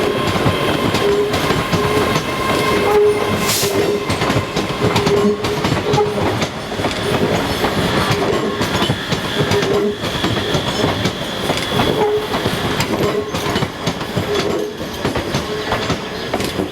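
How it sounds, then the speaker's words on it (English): A ScotRail Hitachi AT200 electric multiple unit runs past on a suburban line in Scotland's central belt, loud and close, with steady rumble, rhythmic wheel clatter over rail joints and a brief high squeal, heard alone. "ScotRail has 70 of these modern AT200 units that were built by Hitachi"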